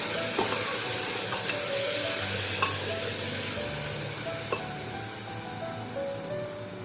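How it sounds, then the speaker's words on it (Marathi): Spiced masala for a Rajasthani brinjal and potato dish sizzles steadily in a pan after water is added, with a continuous hiss and a few sharp clicks of stirring. "ह्याच्यामध्ये थोडं पाणी टाकून देऊया, म्हणजे आपला मसाला जळणार नाही।"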